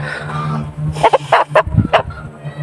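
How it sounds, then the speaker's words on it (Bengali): A rooster is carried along a village path for delivery and lets out a few short, close clucks over a low steady hum. "সুন্দর মোরগটা নিয়ে যাচ্ছি আলহামদুলিল্লাহ ডেলিভারি দেওয়ার জন্য"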